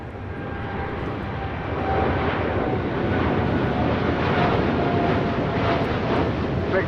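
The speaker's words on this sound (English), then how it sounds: "2284 taking off to Miami on a 787-8 Dreamliner" A Boeing 787-8 Dreamliner, American flight 2284 bound for Miami, takes off from LAX. Its loud, steady jet roar swells after the first couple of seconds and holds at full power throughout.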